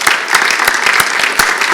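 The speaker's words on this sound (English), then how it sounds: "Give them a round of applause." Loud, close applause from an audience at a Geelong community pitch event, a dense burst of clapping with sharp individual claps standing out throughout.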